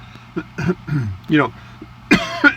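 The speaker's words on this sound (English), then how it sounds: "Whenever I clear my throat like this" A person clears their throat several times in short, rough, close bursts, ending with a harsher rasp.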